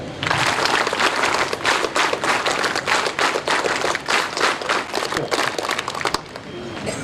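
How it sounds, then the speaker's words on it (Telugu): A large crowd at a police parade ground celebration for International Day of the Girl Child claps loudly and continuously, the applause dropping off sharply near the end into a quieter murmur. "మేడం గారి కోసం ఒక్కసారి చప్పట్లు గట్టిగా"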